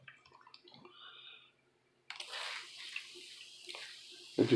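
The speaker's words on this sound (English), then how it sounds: "I think I'll give it a little water because it is pretty moist" Water trickles and splashes faintly onto germinating seeds to dampen them, with quiet handling noises first, then a brief steadier pour and a small knock at the end.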